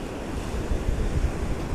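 Atlantic Ocean surf on a windy Tybee Island beach in Georgia, a continuous broad wash of breaking waves with rumbling wind noise buffeting the microphone.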